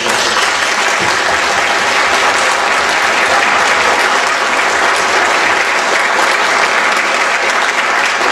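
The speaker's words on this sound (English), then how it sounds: "I just wanted everybody to please give them a round of applause" Sustained crowd applause fills a room at a 2012 congressional campaign kickoff dinner, loud, dense and steady throughout with no break.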